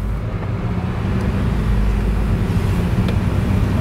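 A rebuilt BMW sports car drives along the road, its steady low engine drone and road rumble continuous and fairly loud from inside the cabin, with no talk.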